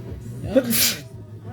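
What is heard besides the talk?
sneeze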